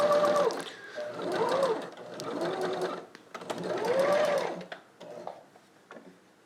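Close stitching bursts from a sewing machine finish the last seam of a Spider-Man test mask, rising and falling in several runs before stopping, with no one speaking.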